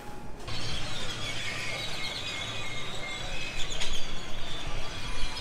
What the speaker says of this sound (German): Die Vögel erobern die Stadt.